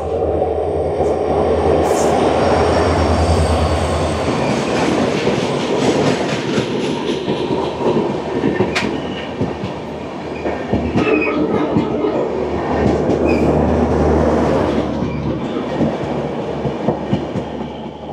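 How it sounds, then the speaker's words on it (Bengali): Guwahati–Badarpur Junction Tourist Express, train number 15888, crossing at Bandarkhal station: a loud, steady rumble with rolling clickety-clack of wheels and occasional squeals, close by throughout. "এই বান্দারখাল স্টেশনে আমাদেরকে ক্রস করবে ট্রেন নাম্বার 15-888 গুয়াহাটি থেকে বদরপুর জংশন ট্যুরিস্ট এক্সপ্রেস"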